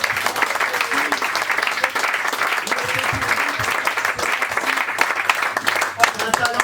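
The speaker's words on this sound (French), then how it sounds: "donc là vous pouvez l'applaudir" Sustained audience applause fills the room after a stand-up comedian's set on a French comedy show, a dense even wash of clapping that holds steady throughout while a host speaks over it.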